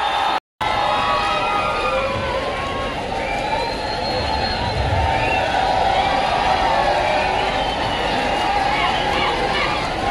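A large crowd roars and applauds at an outdoor political rally in Malegaon, a dense, continuous wash of clapping and cheering that runs nearly the whole time after a brief cut near the start.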